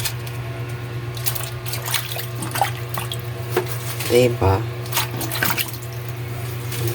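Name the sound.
water draining from soaked ingredients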